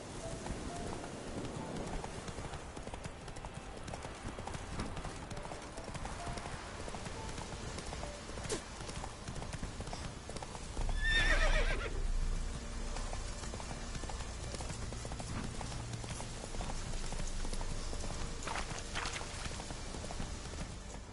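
Roach, a horse in The Witcher 3, clip-clops along in a steady hoofbeat rhythm throughout, with a brief louder burst midway and a possible short whinny; faint ambient game sound sits beneath.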